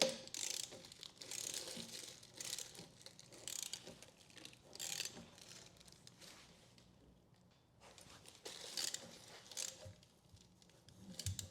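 A socket ratchet clicks in bursts while bolts are torqued down on a Gsxr 750 motorcycle, the socket wrapped in a Ziploc bag; a close, moderately loud mechanical ratcheting comes in uneven runs with brief pauses.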